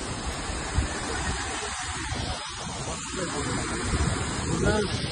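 Rushing water in full flow after heavy rain, a loud, steady broadband roar at a scenic lookout, with a voice talking over it in places.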